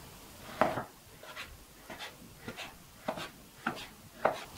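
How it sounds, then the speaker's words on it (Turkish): A knife chops lamb tail fat on a cutting board, giving about eight separate knocks at an uneven, unhurried pace, each one a short crisp tap heard close, with quiet gaps between them. "İlk önce kuyruk yağını bir kesme tahtasına alıp bir bıçakla ince ince doğrayacağız."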